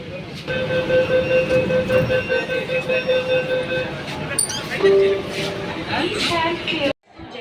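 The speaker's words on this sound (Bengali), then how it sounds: "মেট্রোটি চলে যাবে সেক্টর ফাইভ আমি নেমে পড়ব শিয়ালদা স্টেশনে" An East-West Metro train runs between Howrah and Sealdah, a continuous rumble of wheels and cabin noise with a sustained tonal whine and brief higher squeals, under people talking nearby before a sudden cutoff.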